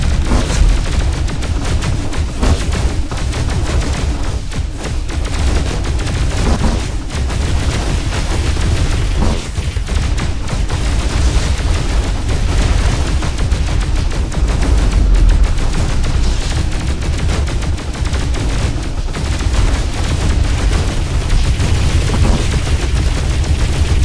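Relentless rapid-fire Vulcan cannon from the game Descent: Underground multiplayer, a dense, loud, continuous stream of gunfire and booming impacts running the whole time with no pauses.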